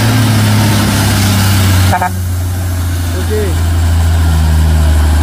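A 6x2 tronton truck with a 220 PS diesel engine idles close by in a loud, steady, deep rumble with a throbbing low hum throughout, while someone speaks one brief word.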